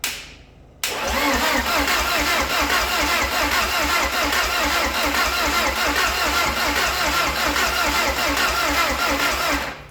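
A rebuilt 1.8 20-valve turbo engine cranks over loudly and steadily on the starter after a short quiet lead-in, with a fast, even rhythmic churn that continues without firing through the rest of the clip.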